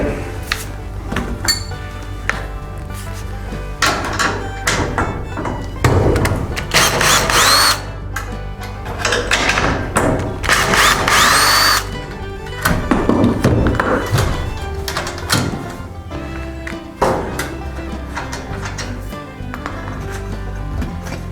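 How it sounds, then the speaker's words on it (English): A cordless power drill backing screws out of a metal plate on a nest box. Short whirring bursts are broken up by clanks and clinks of metal being handled, close by, with a little talk. "So we're going to take these screws off here."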